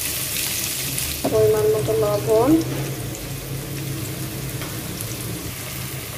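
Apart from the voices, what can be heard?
frying cumin and onions in hot oil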